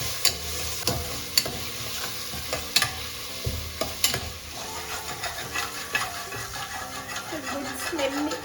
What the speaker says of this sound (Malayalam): മീഡിയം ഫ്ലെയിമിൽ വെച്ചിട്ട് നന്നായിട്ട് ഇളക്കുക